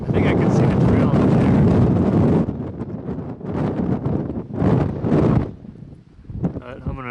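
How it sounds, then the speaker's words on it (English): Strong wind buffets the microphone on the Barr Trail up Pikes Peak, a loud rumbling roar that drops into gusty bursts while a hiker talks. "It's getting pretty windy."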